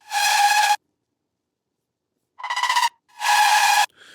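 A synth screech layer built from a dirty, saturated, detuned wavetable saw with LFO-automated noise sounds in three bright, harsh bursts separated by silence, the first long, then two shorter ones close together.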